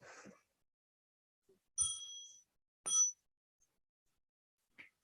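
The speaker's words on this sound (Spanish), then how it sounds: "Con el siguiente sonido de la campana podemos desdoblar nuestras piernas." A meditation bell strikes twice, each clear metallic ring sustaining briefly before fading, with a faint third tap near the end, heard alone in a quiet room.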